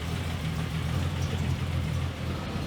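1FZFE engine in an 80 series Land Cruiser idling while warming up and smoking, a steady low rumble with even pulsing, close and continuous.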